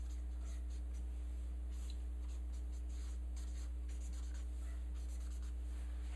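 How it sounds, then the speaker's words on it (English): Marker or chalk writing a word on a board, soft scratchy strokes in short bursts over a low steady hum, quiet and close. "Let's write this word up here."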